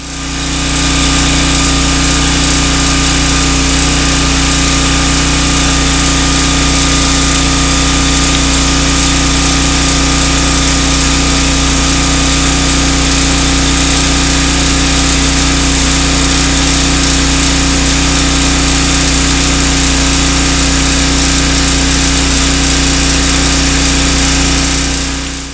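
A small gasoline generator engine runs loud and steady at close range, a constant droning hum with no pauses throughout.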